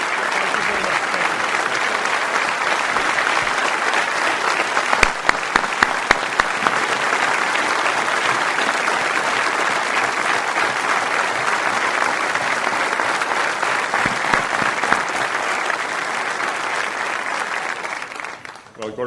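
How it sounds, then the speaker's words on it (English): A long, loud round of audience applause fills a Saint Patrick's Day breakfast in Boston, dense and steady for nearly twenty seconds, with a few sharper individual claps standing out before it tapers off at the end. "please join me in giving a warm round of applause to our friend, the president of Sinn Fein, Gerry Adams"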